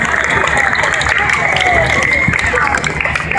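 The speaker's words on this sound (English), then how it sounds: "Give yourselves a big round of applause." Audience applause and crowd noise at a magic show at the Kentucky State Fair, a dense steady wash of clapping and cheering that fills the whole moment without a break.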